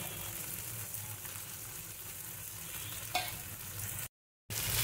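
Ground spice masala is stirred into okra and tomato frying in a pan for bhindi masala curry, a close, steady sizzle with scraping stir sounds and one sharper clink near the end.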